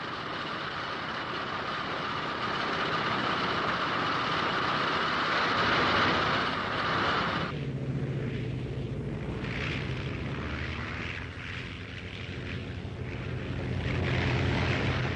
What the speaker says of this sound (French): Malgré ses 8 moteurs et ses 7000 chevaux, l'appareil a bien du mal à décoller.